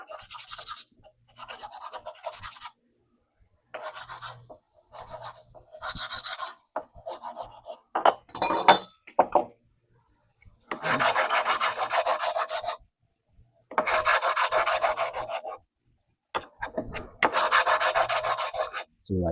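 Oak pieces are rubbed back and forth over sandpaper to round edges and remove burrs, making repeated rasping strokes in short bursts separated by pauses, close and fairly loud with no talk.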